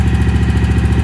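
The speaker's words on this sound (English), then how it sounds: "But that engine sounds alright now." A Scag ride-on mower with a Kawasaki engine runs close by, propped up on fencing legs with its transmission belt removed, giving a loud, steady, throbbing idle with an even rhythmic pulse.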